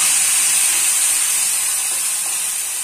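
Coriander and tomato paste hits hot roasted spices in a pan, letting out a loud, steady hiss of sizzling that stays even and close throughout.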